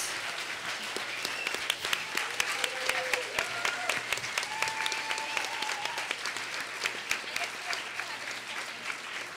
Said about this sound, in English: Let's give a warm round of applause for all of our panelists.